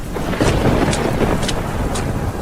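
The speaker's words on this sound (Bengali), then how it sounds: "ভীষণ শব্দে একবার বজ্র ধ্বনি হলো" Loud thunder rumbles steadily through a storm with rain and wind, used as a sound effect in a Bengali village ghost story; the dense, roaring noise carries sharp crackling bursts and no voices.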